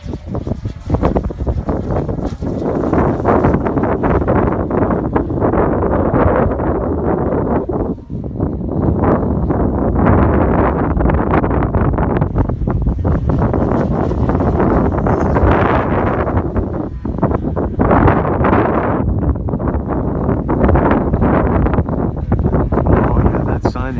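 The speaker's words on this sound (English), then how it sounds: "It is very windy." Strong wind at Sutton roars and buffets against the microphone in loud, continuous gusts, with only a short dip in intensity partway through.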